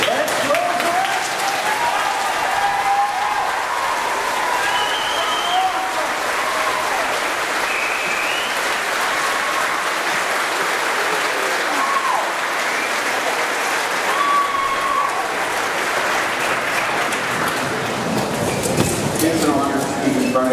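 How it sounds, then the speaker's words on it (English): A large audience applauds and cheers for graduates at a 2023 graduation ceremony, a sustained, steady roar of clapping with occasional whoops that carries on for about twenty seconds. "give a huge round of applause for these amazing young adults"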